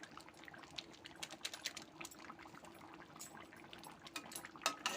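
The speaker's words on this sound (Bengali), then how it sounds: "একটু ফুটলে আমি নামিয়ে নেব" Chicken curry with bori (fried lentil dumplings) simmering in a pot, a steady soft bubbling and popping with scattered brighter blips, close and fairly quiet throughout.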